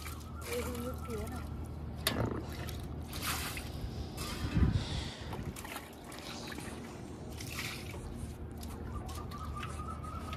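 Water splashes and trickles as it is scooped out of a swimming pool with a plate, soft sloshing and dribbling running steadily beneath lively talking voices.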